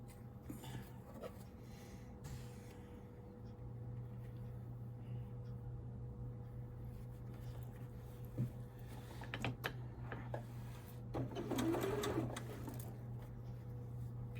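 A sewing machine stitches quilt blocks in a quiet room, its low steady hum running throughout, with brief bursts of rapid stitching and faint clicks and handling noises, the loudest around the end.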